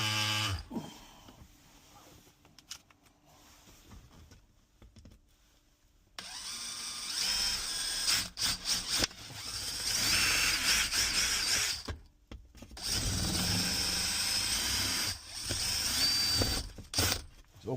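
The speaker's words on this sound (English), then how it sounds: "Now you just want to drill a hole." An electric drill whines in several long bursts, separated by short pauses, close and loud, as it bores a hole in a truck interior to fit a wireless charger.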